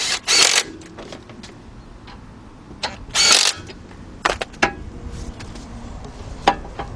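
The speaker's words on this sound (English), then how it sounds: "Tighten up our bolts." A ratchet with a 12mm deep socket tightens the front strut bolts on a 2010 Honda Accord 2.4, giving short bursts of clicking separated by quieter gaps, with a few sharp metallic taps nearby.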